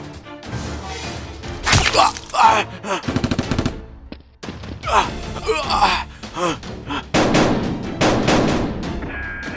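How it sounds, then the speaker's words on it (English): Nerf guns fired in a mock fight among trees, with loud rapid bursts and single cracking shots mixed with gasps and breathy vocal sounds. "Dr. Lee moves to another tree, aiming and shooting, wounding Tony."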